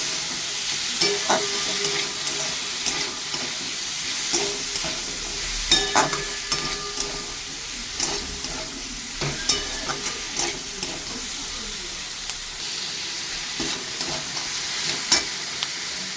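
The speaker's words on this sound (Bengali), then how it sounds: "সব আনাজগুলো দিয়ে দিচ্ছি, বিনস, গাজর, বাঁধাকপি আর শুক্তো। একটু আমি হালকা ভেজে নেব।" Beans, carrot and cabbage lightly frying in a pan for momo filling, a continuous sizzle punctuated by sharp spatula knocks and scrapes at irregular intervals, close and alone without talk.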